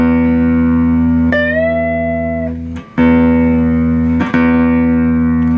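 An electric guitar rings out with sustained open notes while one string is bent upward, its pitch sliding up and holding, followed by fresh plucks. Clean, close and loud, with no talking.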